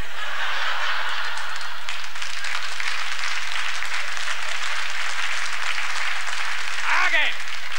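Studio audience applause on a Swedish TV game show: a dense, steady wash of clapping across the whole stretch, loud and even, tapering slightly near the end as a voice briefly comes in.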